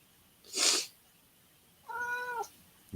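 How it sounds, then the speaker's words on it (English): A cat meows twice: a short breathy cry first, then a clearer, tonal meow about a second later, both fairly close and with no talking. "Meow, meow, meow, meow."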